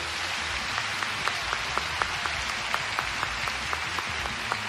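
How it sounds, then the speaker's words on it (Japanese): Audience applause at a JoJo anime fan festival stage event, a dense steady wash of clapping with sharp individual claps standing out, sustained and fairly loud, no speech over it. "拍手をお願いします"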